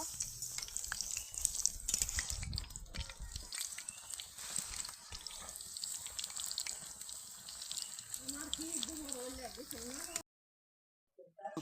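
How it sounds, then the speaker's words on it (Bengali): Noodle pakoras fry in hot oil, giving a continuous crackling sizzle with faint splashy bursts, while a voice talks over the cooking. "এখন এগুলোকে মুচমুচে করে ভাজবো।"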